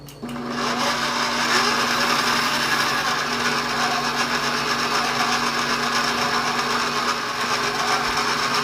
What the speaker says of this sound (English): So now, finally, let's start mixing.